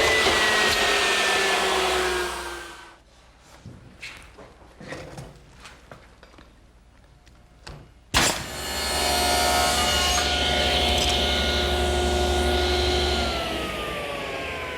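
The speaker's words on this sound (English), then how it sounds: "I've tipped the saw blade to 10 degrees to match the pitch" A power saw with its blade tipped to 10 degrees runs with a loud whirring roar, drops into scraping and rubbing against wood, then roars up again abruptly and runs steadily as it cuts a piece for an outdoor cupboard roof.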